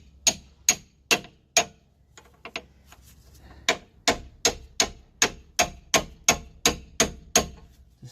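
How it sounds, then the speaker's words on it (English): Hammer tapping a ball joint into place on a Mitsubishi Outlander suspension, a series of sharp metallic knocks, about sixteen evenly spaced blows with a short pause partway through, close and clear with no talk. "I've got the hammer now, so let's just see if we can just tap him in first."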